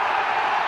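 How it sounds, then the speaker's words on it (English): At an FA Cup giant-killing match, a football crowd roars after a goal as fans invade the pitch. The cheering is a dense, sustained wall of voices with no single speaker. "The crowd are invading the pitch"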